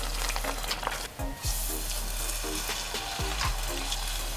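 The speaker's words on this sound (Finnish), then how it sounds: "Put the donuts in the oil 2 at a time." Quark doughnuts fry in hot oil, a steady close sizzle with scattered pops and crackles, broken by a brief dip.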